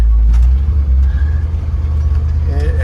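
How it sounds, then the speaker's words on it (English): A car engine drones smoothly and steadily at close range, a low, even hum with slight rises in revs and no sputtering. "if you listen to that engine, that thing's just kind of perking right along, not struggling at all"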